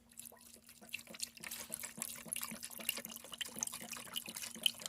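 Acetone poured into a container for soaking a Kawasaki KX450 flywheel part, a faint, steady trickling and splashing of liquid heard close up with no talk.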